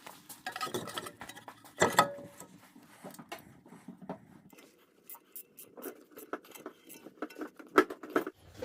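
A Mercedes AMG front brake rotor is handled and lined up on the hub, giving scattered metallic clinks, taps and scrapes at close range, irregular and fairly quiet with pauses between knocks.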